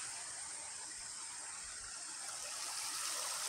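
Steady rushing of clear water running down from a mountain stream, a broad continuous hiss with faint low gurgles, heard close by without speech.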